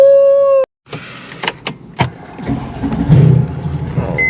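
A Mercedes CLS63 AMG with a Stage 2 tune fires up after a sustained chime tone cuts off, with a few clicks and thumps and then a rising engine rumble that settles into a steady idle, close and loud, with no talking.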